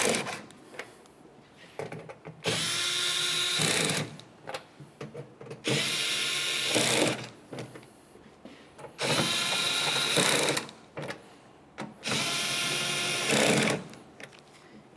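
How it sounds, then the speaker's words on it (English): A power tool runs in four bursts of roughly two seconds each, separated by brief pauses, while tailgate latch mounting bolts are snugged down on a 2001-2005 Ford Explorer Sport Trac. The whirring is close and steady in each burst. "Now let's continue by snugging each of the mounting bolts."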